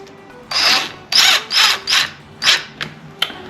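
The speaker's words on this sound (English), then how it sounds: "We'll drill that in." A power drill driving a screw whirs in several short bursts while fitting a roller blind bracket, revving up and stopping, with a couple of brief clicks at the end; close and loud.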